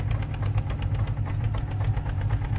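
A simulated tractor engine from an Indian 3D tractor driving game runs at a steady idle, giving a continuous low rumble with faint knocking pulses. No one speaks over it.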